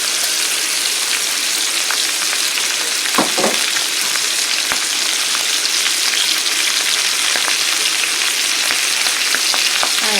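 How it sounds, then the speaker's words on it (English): Peppers and onions sizzle steadily on a griddle for a Philly cheesesteak, a dense, continuous frying hiss with a few brief crackles and pops and no voices over it. "I'm going to add my peppers and onions to the top there as well."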